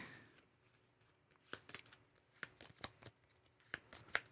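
Playing cards being shuffled back into a deck during a solo board game, a quiet run of short, crisp riffling bursts spaced irregularly, each rising briefly over a soft room background with no talking.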